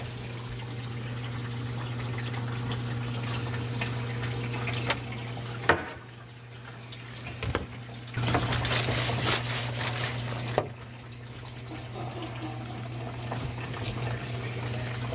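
A GE dishwasher runs with a steady low motor hum while water rushes and churns inside, shifting between filling and a louder gushing drain phase, with a few clunks along the way.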